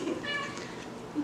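A single short cat meow close by, over a faint background hiss.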